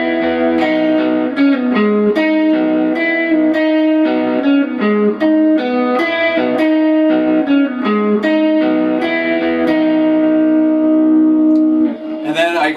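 Electric lead guitar plays a riff through effects, a rhythmic run of bright sustained distorted notes with reverb, loud and close and with no talking.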